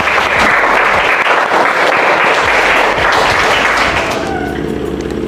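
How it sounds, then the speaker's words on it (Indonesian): A classroom group claps together in a dense, sustained burst of applause that stays loud for about four seconds, then fades out near the end. "tepuk tangan dulu buat semuanya"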